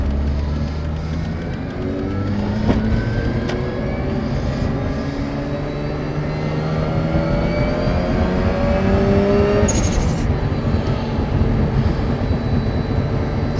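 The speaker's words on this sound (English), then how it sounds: "A lot of what you hear is actually the transmission, though, not the car." Turbocharged 2005 Mazda RX8 driving, its transmission whine rising in pitch with engine revs through the gears over steady road rumble, loud and close inside the car, with no talk.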